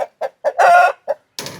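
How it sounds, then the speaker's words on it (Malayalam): Colombian Brahma chickens cluck loudly and close by, giving a quick run of short clucks and then one longer, drawn-out call. "കൊളംബിയൻ ബ്രഹ്മ കോഴിയാണ്."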